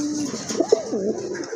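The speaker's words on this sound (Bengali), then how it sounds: "দেখেন এখানে কিন্তু দুইটা কবুতর আছে, মারামারি লাগছে" Indian Kaldom pigeons, a pair squabbling, with one low wavering coo rising and falling, a couple of sharp clicks mid-phrase, moderately close over a steady background hiss.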